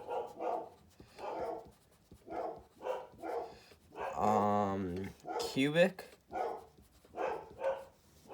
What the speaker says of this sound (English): Sorry for the barking.